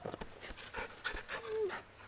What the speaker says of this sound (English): Good doggy. Let me pet you.